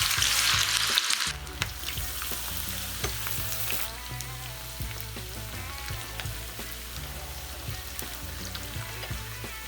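Potato chips for British fish and chips dropped into hot oil, starting with a loud burst of bubbling that settles into a steady, dense sizzle throughout.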